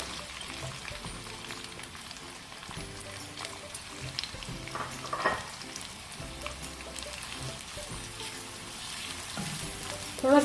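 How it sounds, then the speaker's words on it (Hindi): Onions frying in oil left over from frying tinda, a continuous crackling sizzle with low stirring scrapes and clatter, steady throughout and rising briefly at the end. "अब हम इसमें प्याज शामिल करेंगे इसी ऑयल में"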